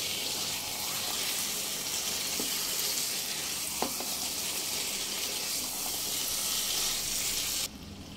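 Boiled chickpeas and potato sauté with spices in oil, giving a steady, loud sizzle with a couple of faint clinks of a spoon, and the frying carrying on evenly until a sudden drop near the end.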